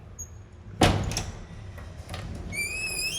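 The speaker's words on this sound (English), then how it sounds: "let me open the door for you." An apartment door in Barcelona opens with a sharp knock-like clack of the latch, followed by softer bumps and a faint high whistling tone at the end, in a quiet room.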